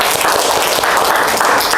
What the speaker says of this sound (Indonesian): Beri tepuk tangan untuk Marte.